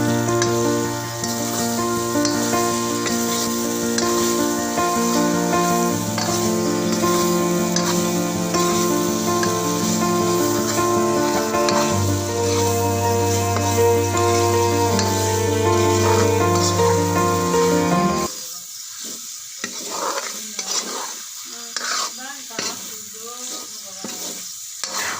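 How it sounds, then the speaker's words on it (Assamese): Chicken pieces fry in a spiced masala for a chicken curry, with a loud steady sizzle and stirring under background music at first, then the music drops away and bare scraping stirs and crackling carry on alone. "ইয়াতে মই এতিয়া চিকেনখিনি দি দিম। চিকেনখিনি দি মই পুনৰবাৰ ধুনীয়াকৈ লৰাই"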